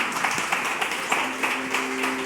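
Church congregation clapping during an evening Portuguese-language worship service, a steady stream of moderate hand claps with faint music or voices under it.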